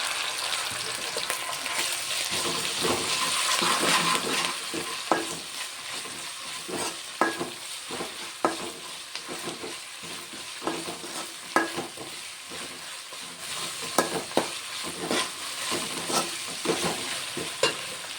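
Ginger garlic paste sizzles in hot oil and is stirred repeatedly for a chukkakura (sorrel leaf) pulao, a continuous frying hiss punctuated by regular spatula scrapes and taps against the pan, close and steady with no talking.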